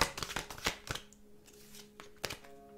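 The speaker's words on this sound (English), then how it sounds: "I love shuffling on the camera." Tarot cards being shuffled in the hand, a run of quick papery riffles and flicks packed close together up front, then thinning into a few scattered taps and slides, fairly faint and close with no voice.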